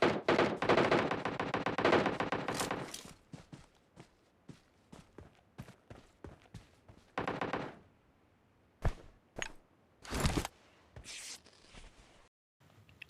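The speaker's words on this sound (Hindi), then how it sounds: "और अब वो बंदा मुझ पे शॉट्स ले रहा था।" Gunfire on the Livik map of a PUBG-style battle royale game: a dense burst of rapid automatic fire at the start, then scattered single shots and short volleys alongside footstep-like thuds.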